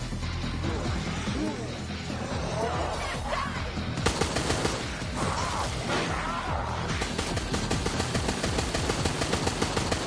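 Rapid bursts of video game gunfire from Resident Evil Resistance crackle in quick volleys with crashes and impacts, dense and loud, a voice talking over part of it.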